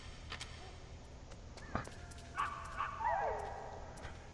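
Dog yelps and whimpers from the video game Metal Gear Solid, a few short cries and a whining sweep over low game ambience, moderately faint, with brief voice-like sounds nearby.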